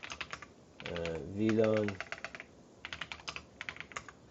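Clicky keystrokes on a computer keyboard as a network command is entered, bursts of quick close taps with a short spoken phrase in the middle, then more steady typing.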